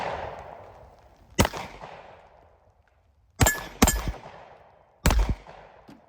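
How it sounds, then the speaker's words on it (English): Sig P365X Macro Comp pistol fired four times at an outdoor range, sharp loud single shots with the last three closer together, each followed by a long fading echo; no speech. "Let's see if we can shoot this thing."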